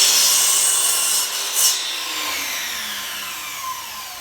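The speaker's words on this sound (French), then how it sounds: "je coupe une première tranche pour pouvoir être en angle droit" A saw cuts into wood for a jointer cabinet, giving a bright, high whine with rasping grit that gradually fades and lowers over several seconds.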